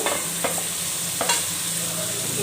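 Masala with tomatoes fries in a pan for a prawn curry, a soft sizzle running throughout as a spoon stirs and scrapes it in a few distinct strokes, close and moderately quiet.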